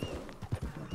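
Horse hooves clip-clopping in Red Dead Redemption 2, a tired horse slowing down; several soft, uneven thuds close by in quick succession.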